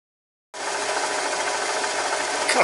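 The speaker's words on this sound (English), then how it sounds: "Cutting the tapers on these rods with my homemade tailstock setover device that I made years ago." Lathe turning tapers on rods for cast iron control arms of a model nodding donkey oil field pump, using a homemade tailstock setover; a steady, continuous close machining whir starts abruptly and runs unbroken without speech.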